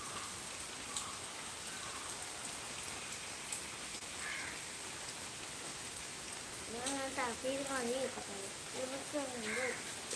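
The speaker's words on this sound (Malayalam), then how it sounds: "സൂപ്പർ മഴ" Heavy daytime summer rain pours in a steady, dense hiss throughout, and someone talks over it toward the end.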